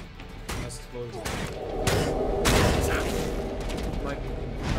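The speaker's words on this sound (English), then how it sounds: "Nice explosion." An explosion goes off during combat in the video game Elex II, with heavy booms and bursts of gunfire while a player talks over the action.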